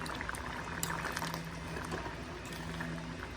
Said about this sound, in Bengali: এটা একটু ফুটুক